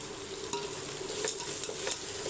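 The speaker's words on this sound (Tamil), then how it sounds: "வெங்காயம் வந்து நல்லா கொஞ்சம் ஒரு முக்கால்வாசி வதங்கணும்" Sliced small shallots sautéing in a hot pan, a continuous close sizzle with light stirring scrapes and soft crackles throughout.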